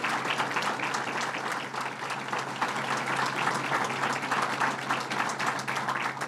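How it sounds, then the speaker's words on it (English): Steady audience applause at a public event on combating gang violence in Albany, dense continuous clapping from a crowd, fairly even in loudness from start to end with no talk over it. "Let's give her a big round of applause."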